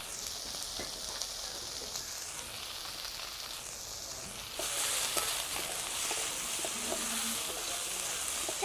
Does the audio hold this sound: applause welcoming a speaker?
no